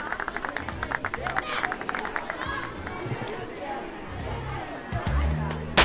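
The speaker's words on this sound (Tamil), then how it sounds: "ஆடியன்ஸ் நீங்களும் கைதட்டுங்க." A stage-event audience claps in a scattered patter that rises and falls under crowd chatter, while people talk over it and a louder burst of noise arrives near the end.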